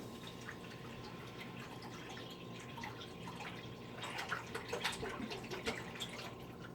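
Water is poured into a container for making stinging nettle tea, a steady close running stream with gurgling splashes growing stronger toward the end.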